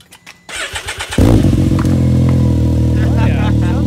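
A Can-Am Maverick X3 side-by-side with a custom exhaust and new tips starts up close by. The engine cranks briefly, catches, and settles into a loud, steady idle, with a little talk before and over it.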